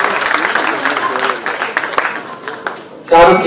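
Audience applause at a Father's Day special event, a crowd clapping in a scattered patter that thins out, then a voice speaks near the end.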